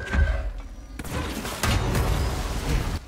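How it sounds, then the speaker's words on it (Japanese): In the video game Control, a heavy explosion booms with a sharp crack, followed by a rumbling blast and dense crashing debris, loud and close. "待ってくれ、その爆発は痛い。"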